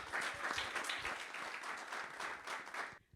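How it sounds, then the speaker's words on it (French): Audience applause for the youngest contestant at a talent contest final at the Stade Crédit Agricole la Licorne: a dense, sustained crowd clapping, loud and steady throughout, cutting off abruptly at the very end. "un tonnerre d'applaudissements pour notre Benjamin du concours, Carla Elisabeth."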